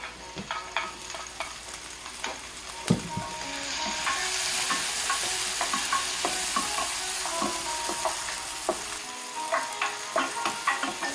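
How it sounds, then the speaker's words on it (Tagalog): Onion and tomato sauté in a pan for Filipino beef caldereta, a close, steady sizzle with scattered crackles and small stirring clicks, with no talk. "Igigasa lang po natin ito hanggang sa lumambot po ang ating sibuyas o ang onion."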